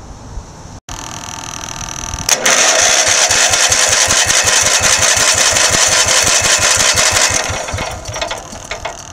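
A Generac generator engine cranks and then runs hard, a loud close sustained rumble with rapid pulsing firing beats that holds steady for several seconds before easing off, with no one talking.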